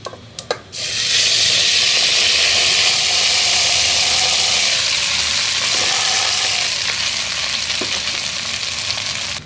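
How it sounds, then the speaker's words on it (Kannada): Leftover cooked rice is stirred and fried in a pan for chitranna, giving a loud, close, continuous sizzle with scraping stirs. A couple of sharp knocks come just before the frying begins. "ಮಿಕ್ಸ್ ಮಾಡೋಣ ಇವಾಗ ತಿರ್ಗೋಣ"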